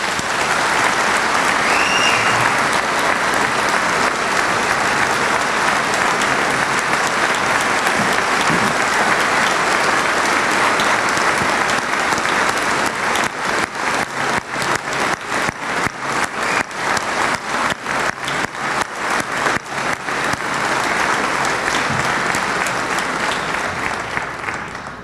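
A large audience claps for President William N. Bulger in a long, steady ovation of dense applause that carries on without pause for about twenty-five seconds.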